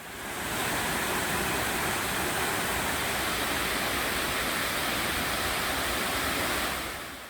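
Twin waterfalls at Mureung Valley roar as a steady, dense wash of falling water, loud and unbroken from start to finish, with no voices over it.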